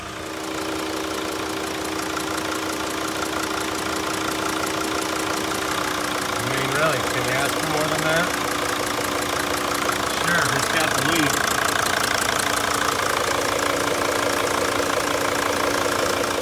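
A 2006 Mercedes T1N Sprinter diesel engine idles steadily with a bad injector seal leak on cylinder one, a continuous near engine drone with a faint ticking knock running throughout.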